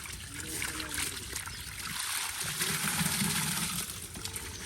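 Water pours out at a fish pond during a harvest, a continuous splashing trickle that grows fuller midway, with a voice faintly in the background.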